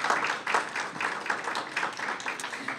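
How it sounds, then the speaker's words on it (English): An audience applauds at a Dying With Dignity Canada annual general meeting presentation, a dense, steady wash of many hands clapping that holds at moderate loudness for a few seconds with no talk over it. "If you can give them a round of applause for their amazing work."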